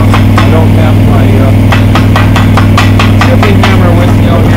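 Miller Trailblazer 325 engine-driven welder running outdoors for flux-cored self-shielded welding, a loud, steady engine drone with a series of sharp clicking bursts over it, no voices.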